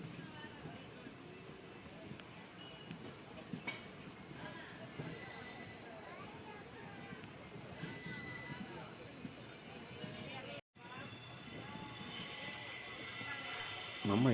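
A passenger train runs from Rameswaram toward Madurai, heard from inside as a steady rumble of carriages and clattering wheels with occasional metallic squeals, while a voice talks over the travel noise.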